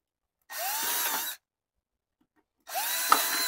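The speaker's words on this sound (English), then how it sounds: "So I'm gonna go ahead and drill these two holes out right here." A power drill with a 7/32 bit bores through a plastic sprinkler timer housing in two separate bursts, each a steady whine lasting about a second, with quiet pauses between.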